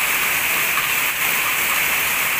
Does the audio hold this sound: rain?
yes